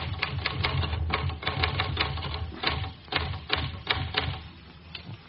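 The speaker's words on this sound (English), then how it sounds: "Well, Lucia, why have you stopped typing?" Typewriter keys clacking in a radio drama, a quick irregular run of sharp mechanical strikes with brief pauses between bursts, close and clear with no speech.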